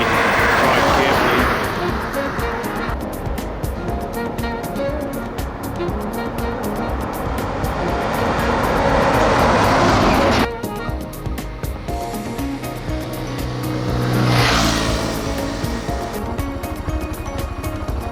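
Road traffic on Highway 12 in Laos with big trucks, loud engine roars and passing vehicles swelling and fading, a heavy rumble dominating, then a second vehicle sweeping past near the end.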